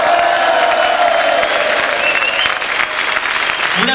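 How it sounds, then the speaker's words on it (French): Loud crowd applause at a student integration event in 2004, dense and sustained clapping filling the room, with a whistle and cheering voices rising through it. "Vous l'applaudir"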